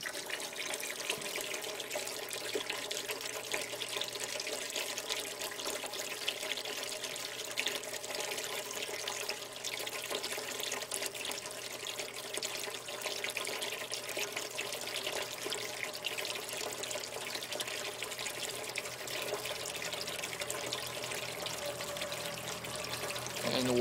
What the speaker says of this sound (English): it's about an 800 liter per hour pump.